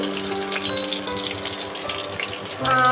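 Egg frying in a pan alongside onion, a steady close sizzle and crackle running throughout with light clinks near the end and no talking.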